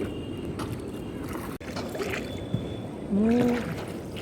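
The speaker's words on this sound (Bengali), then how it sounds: "নৌকা চালাচ্ছে এখন তুমি চালাচ্ছ নৌকা" Someone rows a wooden boat on open water, with oar splashes and gentle sloshing close by, plus brief voices and a short creak or call near the end.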